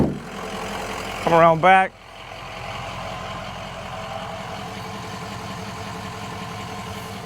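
A 2004 Ford Excursion Eddie Bauer with a 6.0L Powerstroke diesel idles steadily at low volume, after a short burst of speech near the start, and its even rumble holds for the rest of the clip.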